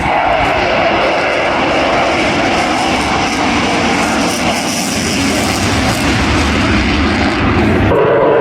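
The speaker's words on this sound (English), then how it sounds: "To balance the aircraft on the thrust of the engine, generating the lift on that beautiful delta wing." Powerful roar of a delta-wing jet aircraft's engines at the Eastbourne airshow, loud and sustained throughout, with a faint rumble beneath and no clear speech.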